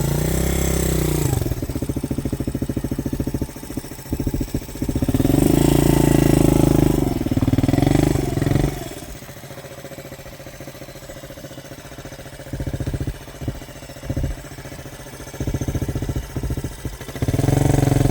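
A trail motorcycle engine revs hard and loud climbing a slope, rising and falling in strong surges with a rough idling chug between bursts.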